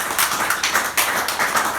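A church congregation claps together in a loose, pulsing rhythm, the broad bursts of many hands swelling and easing several times in close succession with no voices over them.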